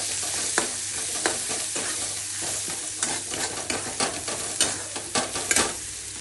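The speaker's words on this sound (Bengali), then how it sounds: "কাশ্মীরি কালার মরিচ দিচ্ছি, তেলটা ছেড়ে দিয়েছে।" Kashmiri chili powder fries in hot oil that has already separated, a continuous sizzle broken by repeated scraping stirs of a spatula, close and fairly loud, with no one speaking.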